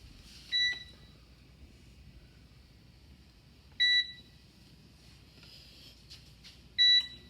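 Kitchen oven control panel set to preheat to 350 degrees, giving three short, clear electronic beeps spaced about three seconds apart over a quiet room.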